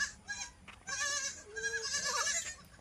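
Goats bleat several times in close succession, loud and near, with short wavering calls and no speech.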